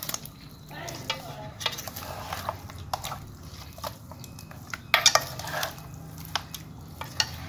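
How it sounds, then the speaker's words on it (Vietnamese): Ingredients for a grass carp fish hotpot stirred in a pot, with scraping and clinking of a utensil against the metal, light sizzling, and sharp knocks near the middle. "Mình trộn đều lên nhé."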